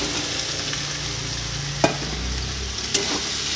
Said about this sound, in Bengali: ভালো করে কষানো হয়ে গেলে এর মধ্যে দেবো সয়াবিন।